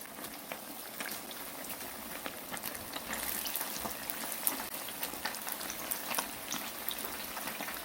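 Dense crackling and sizzling of battered needlefish deep frying in hot oil, a steady bubbling hiss with sharp pops scattered throughout.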